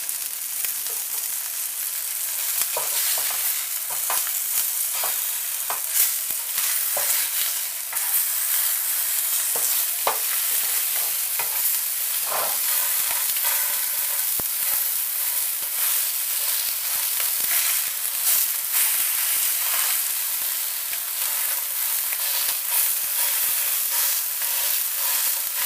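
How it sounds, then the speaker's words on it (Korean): Fish sizzling in a pan at medium heat for fish meunière, a steady, dense crackle and hiss of frying with sharper pops scattered throughout, close and continuous with no talking. "자, 생선을 뒤집어 보겠습니다"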